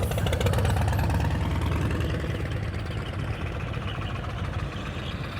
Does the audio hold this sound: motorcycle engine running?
yes